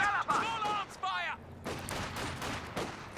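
Machine gun bursts and scattered gunfire in Company of Heroes 2 during a 2v2 match, rattling under a commentator's talk that opens the moment.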